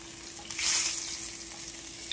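Golden-browned short ribs dropped into simmering broth, a brief bright splash and sizzle burst near the start that settles into a soft steady bubbling hiss, close and fairly quiet.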